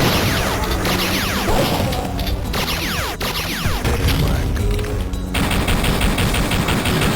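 Shotgun blasts and rapid gunfire crash loudly in the video game Duke Nukem 64, dense overlapping shots with whooshing effects and a brief dip before the firing resumes, no speech.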